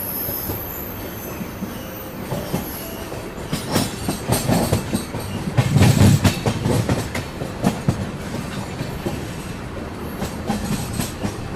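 A Delhi-Mumbai Rajdhani Express train rolls along the tracks with steady rumbling, rhythmic wheel clatter and occasional squeals, swelling louder midway before settling.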